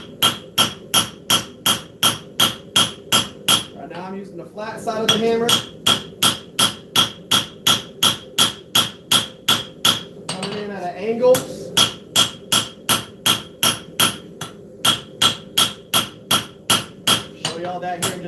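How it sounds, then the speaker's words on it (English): A hammer strikes hot steel while a blade is forged, ringing in a fast, steady rhythm of sharp blows, close and loud. Two brief pauses break the strikes, and someone talks faintly at times. "Flat side of the hammer."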